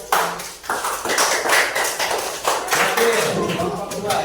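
A group of children clap their hands together in a classroom, a burst of fairly loud, uneven applause with a teacher's voice talking over it.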